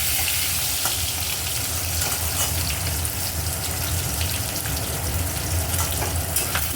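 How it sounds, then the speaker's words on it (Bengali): Duck eggs frying in hot oil in a pan, giving off a loud, continuous close-up sizzle with small pops and crackles throughout. "ডিম আমি বেশি ভাজবো না তাহলে বাইরের খোলাটা শক্ত হয়ে যায় অল্প ভেজে আমি তুলে নেব"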